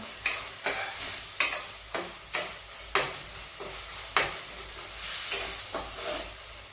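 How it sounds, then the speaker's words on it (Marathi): Onion and tomato frying in oil for a spinach sabzi: loud, close sizzling broken by regular spatula strokes roughly every half second to second, no speech. "पहा कांदा आपला छान असा हा भाजत आहे याला तेलही सुटलेलं आहे"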